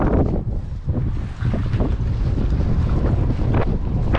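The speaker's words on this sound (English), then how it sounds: "it is very windy down here" Strong wind buffets the microphone in loud, continuous low rumbling gusts aboard a Fairline Targa 47 GT motor yacht, with faint water and boat noise beneath.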